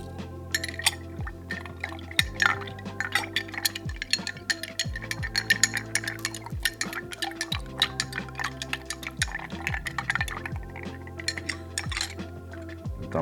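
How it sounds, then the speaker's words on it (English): Ice clinks and rattles rhythmically against a glass as a cocktail is stirred, with repeated close, bright chinks and soft liquid swirling throughout. "I am going to now give this some stirs."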